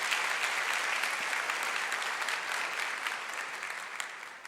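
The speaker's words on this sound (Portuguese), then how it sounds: "Então aplauda ao Senhor," A congregation applauds in church during a sermon, a continuous wash of hand clapping at moderate distance that slowly fades toward the end, with no speech.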